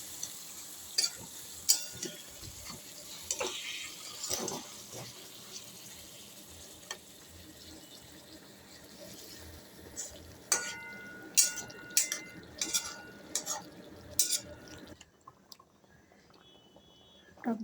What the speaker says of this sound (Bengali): টকবক করে ফুটছে ঝোলটা।